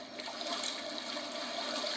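Water splashes and rushes as a character wades in, in the video game Brothers: A Tale of Two Sons Remake. A continuous broadband gush holds steady for about two seconds, with no voices.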